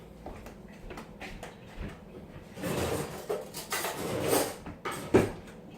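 Someone takes a big spoon from a kitchen drawer, making quiet rustling, then a run of sliding, rubbing and clattering noises with a few sharp knocks, close by and with no talk.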